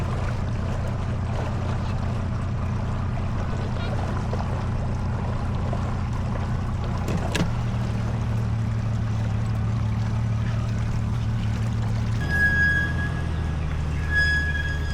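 A bass fishing boat pushes through heavy cover on a trolling motor, giving a steady low electric hum over a soft wash of water. The hum shifts pitch slightly partway through.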